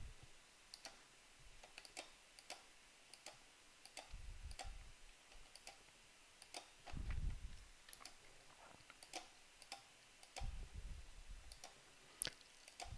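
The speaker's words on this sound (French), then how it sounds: "je clique sur l'outil gomme pour masquer les objets" Computer mouse clicks while choosing the eraser tool in Labomep geometry software, a steady run of sharp, close, quiet clicks spaced about a second apart with faint rustles between them and no speech.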